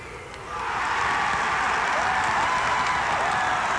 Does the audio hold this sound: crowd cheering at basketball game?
yes